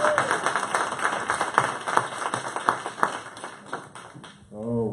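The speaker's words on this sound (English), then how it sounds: "Thank you, everyone, and clap again." Audience applause at a monthly community meeting, steady clapping for about four seconds that fades out, followed by a brief voice at the end.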